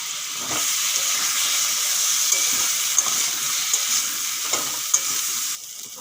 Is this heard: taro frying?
yes